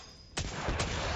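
The Midnight Coup hand cannon, with kinetic tremors and explosive payload, fires in a Destiny Grandmaster activity, giving a sudden sharp blast and then a second booming hit over steady game background noise.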